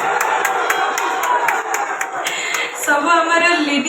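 An audience at an Odia folk theatre (gananatya) show claps and cheers, dense rhythmic applause with loud crowd shouting throughout, steady and close.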